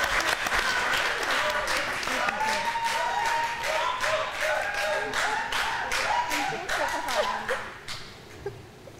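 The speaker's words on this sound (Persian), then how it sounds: "تشویقشون کنین" A studio audience at a Persian pantomime-league game show applauds, with dense rapid clapping and a few brief calls or whoops in the middle. The clapping thins out and fades over the last seconds.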